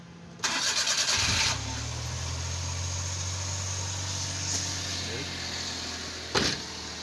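A multicab's small engine with a hard-starting fault cranks with a brief starter whir, then catches and settles into a low, steady idle, with a short mechanical rattle later on.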